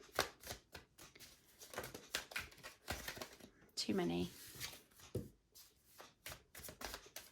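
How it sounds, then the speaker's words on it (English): Tarot cards are shuffled by hand in quick bursts of papery riffling and flicking, close and crisp, interrupted by short pauses while a person speaks briefly between the shuffles. "My amazing shuffling skills."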